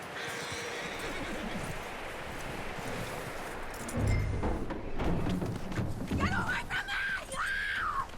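A horse in Red Dead Redemption 2 snorts and shuffles, then lets out two rising whinnies near the end, amid outdoor rustling and low thumps, with a voice speaking partway through.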